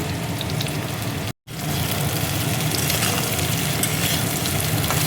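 Soybean chunks frying in a pan with potatoes, a steady loud sizzle and crackle running throughout, briefly cut off by a short silent gap before continuing.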